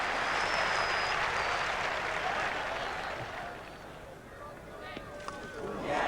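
Cricket crowd at Old Trafford during an England v Australia Test in 1981, rising in a broad roar of cheering and applause that swells, eases, then builds again, with a commentator's voice over it.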